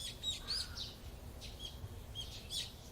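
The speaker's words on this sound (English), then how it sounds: "The chirping of birds served as my alarm clock." Birds chirp in the video game Higurashi, a few bright, short calls repeating at moderate volume over a steady low background hum.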